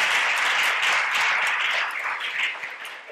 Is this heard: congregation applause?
yes